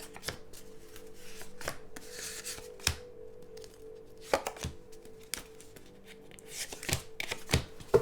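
Tarot cards are shuffled by hand, making repeated soft riffling and snapping bursts with short pauses between them, close and fairly quiet, with no talking.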